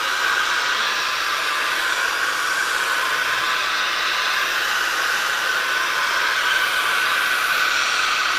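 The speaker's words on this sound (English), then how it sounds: "I'm going to run a hair dryer to dry this thoroughly." A hair dryer blows steadily and loudly the whole time, a constant airy roar with a faint high whine and no pauses.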